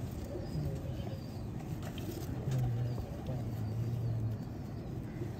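Pigeons cooing nearby, several low, drawn-out coos in a row over a soft outdoor background hum, with faint chirps and no talking.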